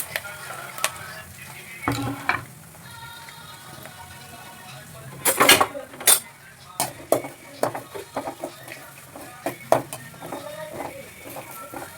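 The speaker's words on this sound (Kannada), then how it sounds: "ಇವಾಗ ನಾನು ಈರುಳ್ಳಿ ಹಾಕೋತಾ ಇದ್ದೀನಿ ಹಸಿಮೆಣ್ಸಿನ್ಕಾಯಿ ಹಾಕೋತಾ ಇದ್ದೀನಿ" Onion and green chilli sizzle in oil in a pan, along with mustard seeds and cumin added just before. A spatula scrapes and stirs with irregular clinks and knocks over a soft, steady frying hiss.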